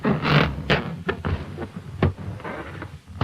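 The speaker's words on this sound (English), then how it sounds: "The sound of fingers being rubbed on a balloon." Fingers rubbed on a balloon as an old-time radio sound effect, giving a series of squeaky, rubbery scrapes and short squeals in uneven strokes, close and moderately loud throughout.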